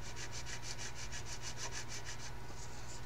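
Fine sandpaper rubs back and forth on a 1/32-scale plastic OS2U Kingfisher model airplane kit in quick, even strokes, close and steady, continuing alone with no talking.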